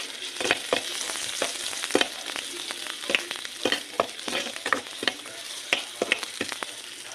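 Onion and garlic, plus dried garlic, sizzle and crackle in hot oil in a pan while being stirred for pancit, a steady close frying hiss broken by frequent sharp spatters and occasional utensil scrapes, with no talking.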